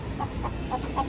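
A red local rooster giving a few soft, short clucks close by against faint background noise.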